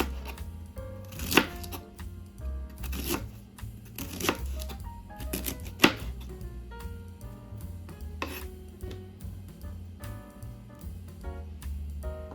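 Knife chopping through the hard core of a vegetable on a cutting board for leftover turkey soup, several sharp close thuds at irregular intervals over low steady background noise.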